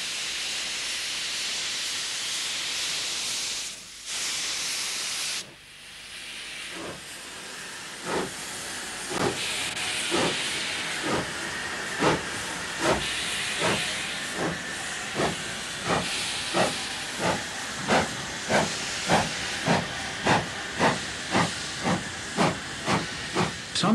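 A steam locomotive vents a loud, steady hiss of steam. Its exhaust then settles into a rhythmic chuffing whose beats gradually quicken as the engine pulls away.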